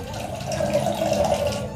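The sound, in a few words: pouring a little water into homemade curd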